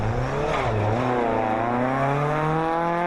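Historic-class Mark II Escort rally car held at open throttle on a special stage, a loud close engine drone whose pitch dips briefly then climbs steadily and evenly.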